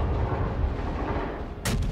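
Heavy, booming gunfire rolls continuously as big naval guns fire in the World of Warships video game, followed by a sharp crack of another shot near the end.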